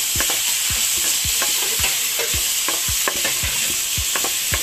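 Leftover lechon pork stirred into pinakbet in a frying pan, a steady bright sizzle with repeated scraping stirs at an uneven rhythm, close and continuous with no talking.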